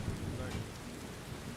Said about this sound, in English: The rain is too loud.